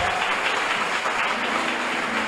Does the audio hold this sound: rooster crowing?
no